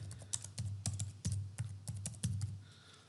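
Rapid keystrokes on a computer keyboard as an ID number is entered into a login page, a close, crisp run of about a dozen clicks with uneven rhythm and no voices.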